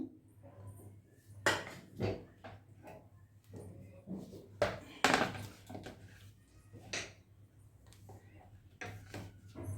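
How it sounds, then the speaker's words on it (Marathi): Knife cutting bitter gourd (karela) on a board, a handful of irregular sharp chopping knocks spaced through a quiet kitchen with low hum and faint dish clatter. "कारलं आता हे छान बारीक करून घ्यायचे आपल्याला कापून"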